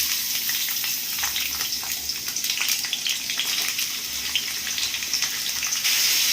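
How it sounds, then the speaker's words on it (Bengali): About 800 grams of chopped onions frying in hot white oil in a wok over a high gas flame until golden, giving a steady, close, loud sizzling hiss with no talk. "গ্যাসের ফ্লেম হাইতে রেখে লাল লাল করে ভেজে বেরেস্তা রেডি করে নেব"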